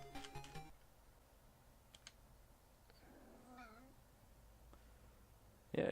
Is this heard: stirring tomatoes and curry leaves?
no